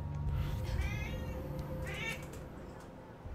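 A cat meows twice in the Resident Evil 3 video game, with two short, clear mewing calls about a second apart over a steady background of game ambience and low rumble.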